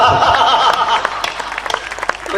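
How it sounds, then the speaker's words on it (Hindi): Listeners at a Hindi patriotic poetry recital clap, a loud burst that thins into scattered claps, with a voice and light chuckles mixed in at the start. "मंच भी ताली बजाए"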